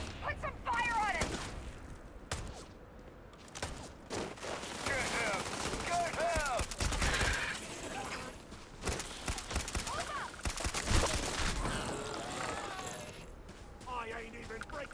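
Rapid bursts of sci-fi gunfire from a firefight in the video game Starfield, with dense overlapping shots and mechanical clatter mixed in. Someone talks loudly over the shooting throughout.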